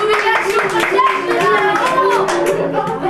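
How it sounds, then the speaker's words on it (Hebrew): Party guests clap at a 1993 tenth birthday celebration, a steady burst of hand claps mixed with lively voices and chatter throughout the few seconds. "תנו לו כפיים"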